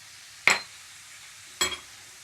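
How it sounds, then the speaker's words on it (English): A spoon scrapes twice through curry sloppy joe mixture of ground meat, onions, curry powder and garam masala in a pan. The two short, close scrapes are about a second apart, with quiet kitchen background between them. "Now just mix it around, cook it, stirring."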